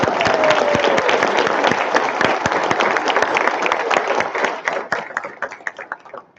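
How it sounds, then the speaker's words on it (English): A graduation audience applauds with crisp, dense clapping that holds steady for several seconds, then thins into scattered claps and fades. "Now is a good time to applaud."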